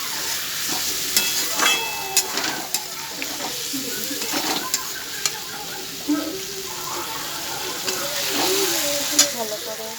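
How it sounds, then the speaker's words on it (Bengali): Potatoes and onions fry with spices in a pan, a steady close sizzle broken by repeated scraping stirs and light clinks, with no talk. "আলু পেঁয়াজ ভাজা হয়ে গেছে, দিয়ে দেবো মশলাটা।"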